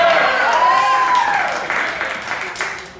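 An audience at a theater graduation showcase claps loudly, with a rising and falling whoop or cheer over the clapping, then fades gradually.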